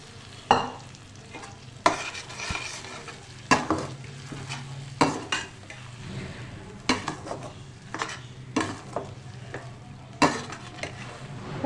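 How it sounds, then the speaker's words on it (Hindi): Tomato, red chili, salt and poppy seeds are stirred and fried in a pan for a poppy seed chutney, with a spoon scraping in regular strokes over a low, steady sizzle. "खूब अच्छी तरह इसे मिक्स करके हमारा काम है अब इसकी भुनाई करना"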